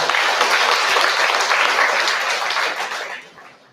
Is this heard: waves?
no